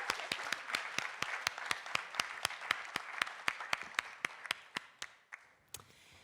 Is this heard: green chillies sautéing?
no